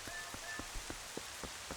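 Steady rain hisses across a surface in Zelda: Twilight Princess HD, with scattered raindrop taps breaking through a continuous wash of falling water, soft and even throughout.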